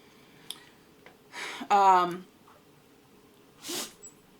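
A single sharp sneeze bursts out near the middle, with a few quieter breathy noises and faint sounds before and after it.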